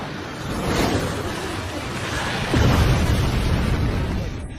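A Naruto animated movie explosion comes as a loud, sustained rumbling roar with a whooshing burst that swells midway and then slowly rolls off.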